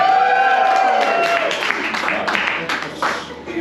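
An audience at a New Orleans poetry festival local poets night applauds and hollers in a burst of clapping and cheering, fading unevenly toward the end.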